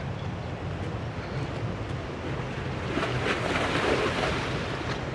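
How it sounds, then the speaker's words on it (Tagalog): Large sea waves roll in along the Old Jaffa coast in Israel, a steady broadband wash of surf with wind noise on the microphone, swelling louder over the last couple of seconds with no voices. "Ang lalaki lang talaga ng alon."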